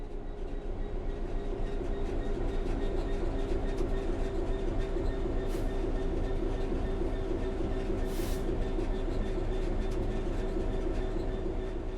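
A train coasts on level track in the video game Train Sim World 3, a steady rumbling roll of wheels with rhythmic low drone and a few brief high squeals, no voices.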